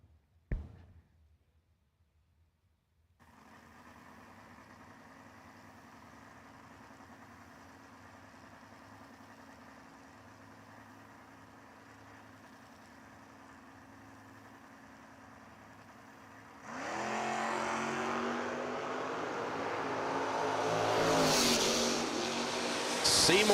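A 68 Camaro and a Chevy II drag racing cars idle with a low steady rumble at a footbrake drag race, then launch into a loud, rising roar near the end.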